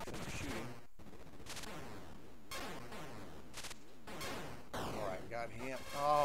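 Shooting in the Atari 2600 homebrew game Plan B: Escape Earth, with a series of harsh descending electronic zaps and bursts repeating every second or so, loud and synthetic, with chirpy tones near the end.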